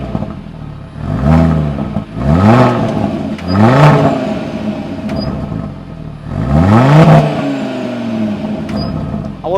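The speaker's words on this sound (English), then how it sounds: "Now these look so aggressive and they give out an epic sound." An Audi RSQ3's engine revs through its oval exhausts in four sharp, loud blips, each climbing and falling away. The bursts are heard up close, with no talking.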